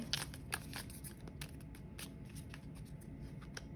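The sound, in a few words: shuffling a deck of cards for a reading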